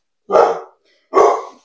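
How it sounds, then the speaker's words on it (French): A pet dog at home barks at people passing in the street, two loud, close, sharp barks with a short gap between them and no voices. "si vous entendez, c'est mon chien"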